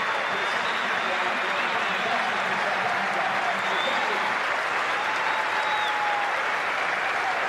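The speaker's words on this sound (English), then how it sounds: "the Sydney crowd really appreciating Graham Smith's courage to come out and bat f" A large cricket stadium crowd in Sydney applauds in a sustained, roaring wave of clapping, with cheering voices mixed in throughout.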